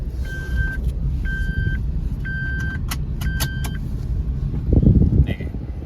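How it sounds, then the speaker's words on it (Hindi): Seat belt warning buzzer in a Suzuki Alto AGS sounds as a string of short, clear electronic beeps repeating in a steady rhythm over the low cabin hum of the idling car, followed by a soft clunk near the end. "सीट बेल्ट लगा लिया, ये बज़र ऑफ हो गया"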